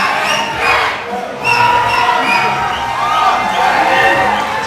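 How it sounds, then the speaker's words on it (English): A rowdy crowd at a local Muay Thai fight night cheers and shouts continuously, loud and close, with voices overlapping in a dense roar that swells and dips. "It's a pretty rowdy crowd,"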